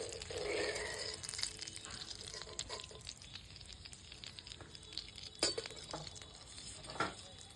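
Paneer and potato kachori frying in hot oil, a low bubbling sizzle with occasional utensil clinks and scrapes, fairly faint and close.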